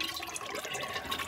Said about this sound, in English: let's drain the oil into the collection bin